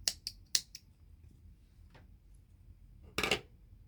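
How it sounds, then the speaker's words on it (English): Scissors snip crochet yarn in a few quick, sharp cuts close by, with a quiet gap between the first clicks and a final louder snip. "cut this yarn over here"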